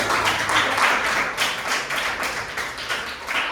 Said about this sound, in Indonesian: kasih dulu tepuk tangan untuk